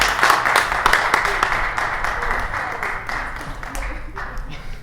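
An audience at an improv comedy show applauds a performer with loud, dense clapping and a few cheers, strongest at the start and slowly fading, with a voice talking over it.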